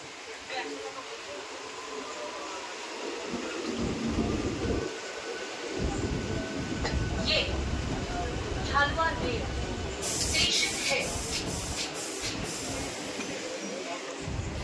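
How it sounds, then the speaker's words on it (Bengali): A local train enters Jhaluarbari station, its low rumble and rolling wheels building under a man's speech, with hissing brakes and squeals near the end. "এই এখন আমাদের ট্রেন ঝালুয়ার বে স্টেশনে ঢুকছে।"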